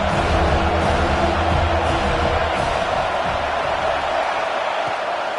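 A football stadium crowd roaring, a dense, steady wall of cheering and voices held at a loud level throughout, with a faint voice mixed in.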